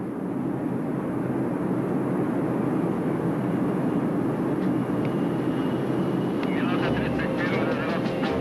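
Steady, loud engine drone of a Soviet military transport aircraft in flight carrying paratroops, a constant roar heard from inside with no breaks.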